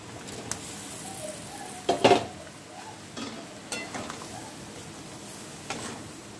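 Paneer pieces go into a simmering curry in a pan for a paneer and pointed gourd malai curry, giving a quiet sizzle with a few clinks and a brief louder splash of stirring, with no voices.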